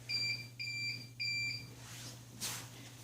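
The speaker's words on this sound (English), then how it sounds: "the heating finishes, it sounds 3 beep sound to alarm you finish it" A REGENI RG202 dryer signals the end of heating with three evenly spaced high electronic beeps over a steady low hum, followed by a brief hiss.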